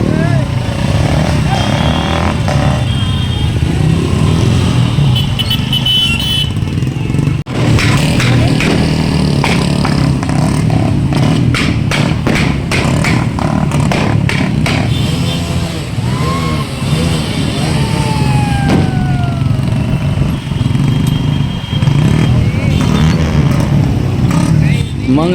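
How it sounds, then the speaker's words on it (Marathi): Many motorcycles rumble and rev loudly at close range in a bike rally for Ambedkar Jayanti in Pachora, with engines droning continuously, occasional throttle bursts and horn-like tones amid crowd noise. "सर्वांनी नागसेन नगर येथे जमून बाईक रॅलीला सुरुवात केली"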